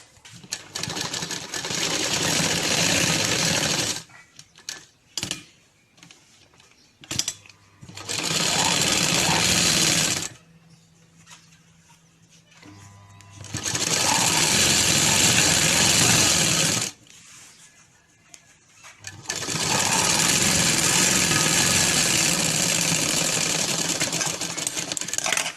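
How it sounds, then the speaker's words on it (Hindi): A sewing machine stitches a round seam on a sharara, running in several long loud bursts of steady whirring separated by short quiet pauses. "और इस तरह गोल सिलाई ले लेंगे।"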